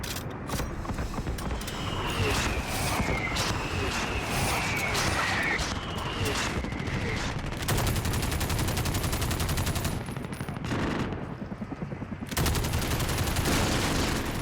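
Sustained, loud gunfire in the video game Call of Duty: Modern Warfare (2019), dense bursts and repeated shots running nearly throughout with mechanical clatter, a brief dip around the twelfth second before the firing resumes.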